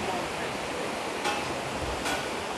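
Steady rushing water fills the clip, a broad continuous wash like a flowing river, with no voices.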